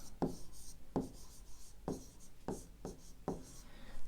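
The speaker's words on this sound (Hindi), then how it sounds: "तो यहाँ पे मैं साइड में लिख लेता हूँ" Pen strokes scratch across paper while numbers are written for a fifth-grade math problem. Five distinct, close strokes come at a steady, unhurried pace.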